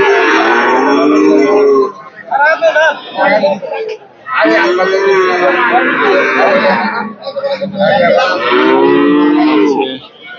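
Calves moo loudly and close by at a livestock market in three long, drawn-out bellows separated by short pauses, with faint voices between them.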